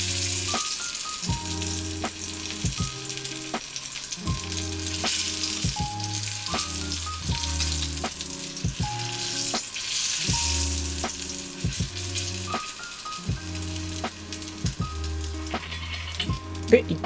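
Meat browns in a frying pan with a steady, close crackling sizzle, punctuated by repeated clanks and scrapes as the pieces are turned and moved about the pan.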